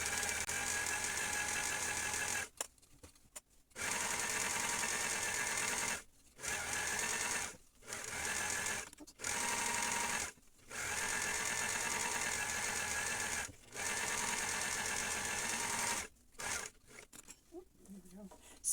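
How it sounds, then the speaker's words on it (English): A sewing machine with a built-in knife runs in repeated bursts, stitching and trimming the edge of a fabric, each run steady and close, separated by brief pauses. "when I sew the edge of this, the knife is there whether I want it to be or not"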